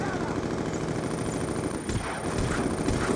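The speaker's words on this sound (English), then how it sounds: "Something's still shooting me over here." An enemy turret in Call of Duty Black Ops 2 fires in sustained rapid bursts, a continuous dense rattle of in-game gunfire with no pause.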